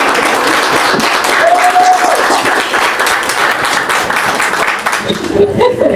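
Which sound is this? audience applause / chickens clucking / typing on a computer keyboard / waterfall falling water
audience applause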